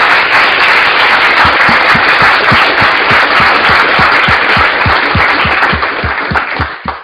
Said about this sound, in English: round of applause would be good.